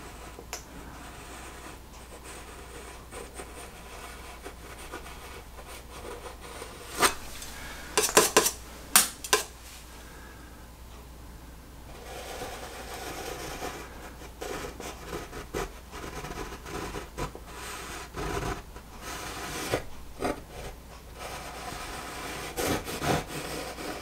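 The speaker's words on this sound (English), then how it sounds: "Just scraping the paint into the canvas here." Palette knife scraping oil paint across a canvas while painting a mountain, with soft intermittent scratchy strokes and a few brief louder clinks, close and fairly quiet, without talk.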